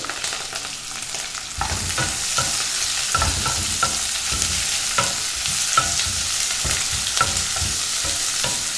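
Two large chopped onions and curry leaves frying in a pan for Kumbakonam kadappa, with a loud, close sizzle broken by repeated scraping stirs of a spoon against the pan, and no voices.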